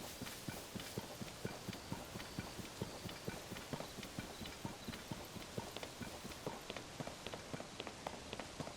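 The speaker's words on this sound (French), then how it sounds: "Attendez les chevaux, je peux juste en emprunter un ou pas?" Horses trot in the video game Zelda: Tears of the Kingdom, a steady, rapid clip-clop of hooves at moderate distance continuing throughout without talk.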